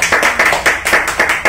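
A small group claps loudly and close by in a repair workshop, with about six quick, rhythmic bursts of clapping in a second and a half.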